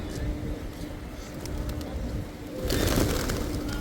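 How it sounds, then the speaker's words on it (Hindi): Pigeons cooing nearby on a busy morning street in Makkah near the Bab al-Salam gate, with traffic and general outdoor noise rising toward the end. "ये देखिए अभी हर रास्ते पे कबूतर ही कबूतर है"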